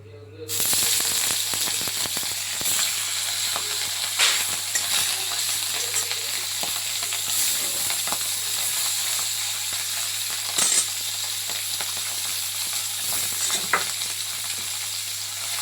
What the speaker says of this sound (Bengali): এই একই কড়াইতে তেল দিয়ে মা এবার মাছটা ভেজে নেবে।